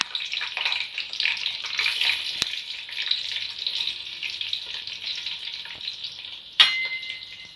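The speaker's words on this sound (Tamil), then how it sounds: "வெங்காயம் நல்லா கோல்டன் ஃப்ரை ஆகிற வரைக்கும் வதக்கி விட்டுக்கணும்" Sliced onions sizzle steadily in hot spiced oil for chicken thokku biryani, with soft stirring scrapes throughout and a single sharp clink near the end, close and alone with no voices.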